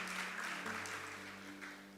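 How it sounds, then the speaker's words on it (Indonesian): A church congregation claps softly and continuously for a couple of seconds, faint applause beneath held keyboard tones. "Amin, tepuk tangan bagi Tuhan Yesus."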